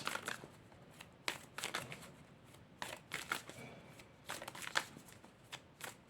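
Tarot cards shuffled by hand for a three-card daily draw, a run of crisp riffling bursts and soft slides in quick irregular succession, close and fairly quiet with no talking.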